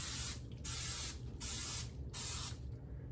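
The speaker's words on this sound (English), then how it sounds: "spray it with the coconut oil." Coconut oil spritzed onto a baking pan in four short, even bursts of spray, close and fairly soft, with quiet gaps between them.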